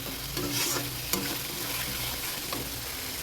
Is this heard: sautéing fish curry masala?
yes